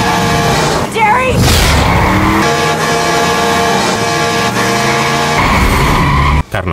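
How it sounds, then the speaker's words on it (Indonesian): A truck roars up from behind a car at very high speed in a night-road chase scene from the 2001 horror film Jeepers Creepers, a loud sustained engine drone with a swelling pass and a brief dropout near the end, laid under music. "ada sebuah truk dari arah belakang yang terlihat bergerak dengan kecepatan yang sangat tinggi."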